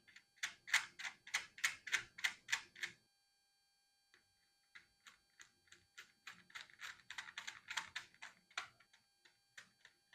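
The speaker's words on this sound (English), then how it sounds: "And just put a piece of paper over it and I can sketch." Pencil sketching on paper laid over a carburetor spacer plate to trace a gasket outline: quick rhythmic back-and-forth scratchy strokes up close, a pause, then a longer run of lighter, irregular strokes.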